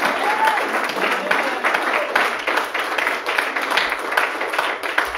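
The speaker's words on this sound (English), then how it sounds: "I want everybody that's not standing to give these folks a hand clap right now" A church congregation at Sunday worship claps for a group, the hand claps fast and overlapping at moderate level, with a faint whistled or voiced tone near the start.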